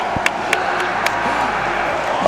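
A large crowd at the Evo 2019 fighting game tournament roars and cheers in a dense, sustained wash, punctuated by a few sharp claps or slams, with a commentator's voice cutting in over the noise.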